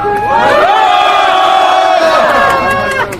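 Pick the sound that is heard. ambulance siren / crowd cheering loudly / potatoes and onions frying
crowd cheering loudly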